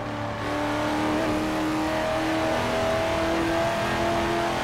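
A Corvette Z06 sports car engine revs hard under acceleration, heard steady and loud from inside the cabin, its pitch climbing smoothly with no talking.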